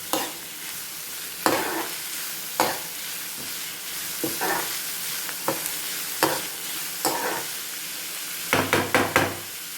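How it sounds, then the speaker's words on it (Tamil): Onions sautéing in a pan until light brown, a steady low sizzle broken by sharp stirring scrapes that recur every second or so, close and moderately loud with no voices. "இப்போ அதாவது லைட் ப்ரௌன் ஆகிற வரைக்கும் நம்ம இதை வெங்காயம் வதக்கிடலாம்."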